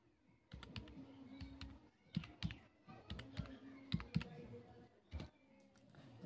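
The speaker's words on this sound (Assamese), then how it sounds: "আধাৰ নম্বৰ টাইপ কৰি দিব। যিহেতু মই টাইপ কৰি দিছোঁ" Keys clack in quick irregular bursts on a computer keyboard while a number is typed into an online form, soft and close with short pauses between runs of keystrokes.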